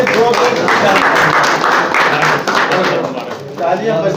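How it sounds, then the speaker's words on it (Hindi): Audience applause at an award ceremony in Delhi, a dense continuous patter of many hands clapping, loud and close, dipping briefly before swelling again. "तालियां बजती रहनी चाहिए।"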